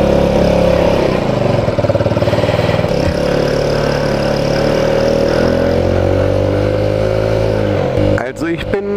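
A Rex RS 700 scooter engine runs steadily and close while being ridden, its drone rising and falling slightly with the throttle, plus wind rumble and a brief clatter near the end.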